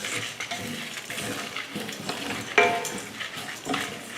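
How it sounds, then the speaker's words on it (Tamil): Cumin, dried chillies, a piece of cinnamon, three cardamom pods and three cloves roasting in a pan, with soft crackling and the scrape of stirring repeating in short strokes, one sharper clink partway through. "இப்போ இதை வறுத்து எடுத்துடலாம்."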